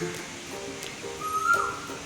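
A single distant Asian koel call, a rising whistled note, sounds briefly over a soft steady background.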